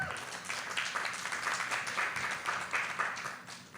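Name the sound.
audience applause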